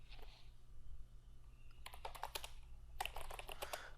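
Keys clatter on a computer keyboard in two quick bursts of rapid clicking, close and fairly soft against a low background hum, with no speech.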